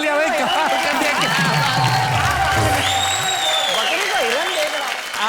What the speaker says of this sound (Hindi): एक बार जोरदार तालियां भाई, कमाल कर दिया।